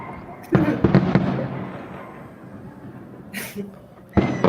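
Fireworks pop and crackle at a distance in a few scattered bursts, with a rumbling wash of noise between them and another sharp burst near the end.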